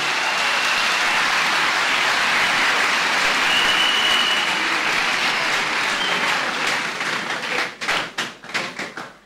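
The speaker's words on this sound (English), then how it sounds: "clap for Jesus Christ for saving his life" A church congregation at a deliverance service claps steadily, then the applause breaks into distinct rhythmic claps that fade out toward the end.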